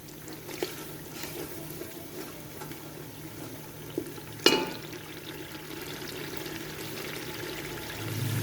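Water added a little at a time to masala frying in oil for a white bean (lobia) curry, heard as a soft pouring and sizzling hiss with a brief sharp splash midway, close and steady.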